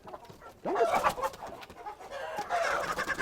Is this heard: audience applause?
no